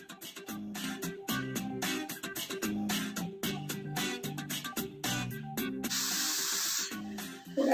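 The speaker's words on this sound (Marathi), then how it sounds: "थोड्या थोड्या चिप्स घालून आपल्याला या तळून घ्यायच्या आहे" Finger millet (nachni) chips dropped into hot oil over low-to-medium heat, sizzling and bubbling steadily and close up, with brief crackling surges and a louder hissing burst near the end.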